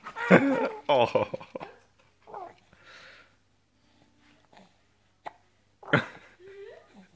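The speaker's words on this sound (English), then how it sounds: "You don't like the hiccups, huh?" A baby in a bouncy seat hiccups several times in short, sharp bursts spaced a couple of seconds apart, close up, with soft breathing and sniffs between.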